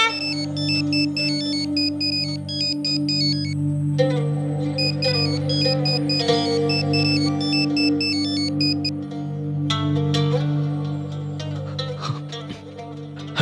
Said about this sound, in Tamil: உங்களோட போன் அடிச்சிட்டே இருக்கு ஏன் போன் எடுக்க மாட்டீங்க